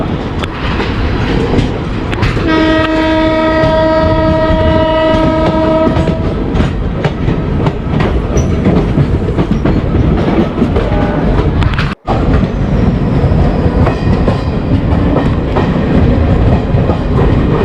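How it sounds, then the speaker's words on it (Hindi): A Mumbai–Firozpur Punjab Mail passenger train rolls past loudly and close, with a sustained horn blast early on and continuous rumbling, clattering wheels on the rails throughout. "ये है मुंबई फिरोजपुर पंजाब मेल।"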